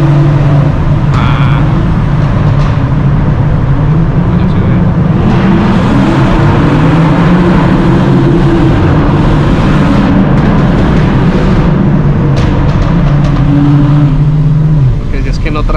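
A loud BMW engine rumbles and revs, its pitch climbing and falling, echoing inside a tunnel while voices talk over it.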